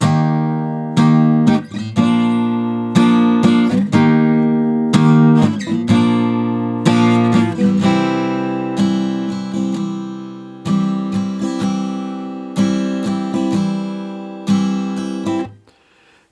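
Rhythmic acoustic guitar chords played in short bursts with brief gaps, a steady strummed pattern that rings out and stops abruptly at the end.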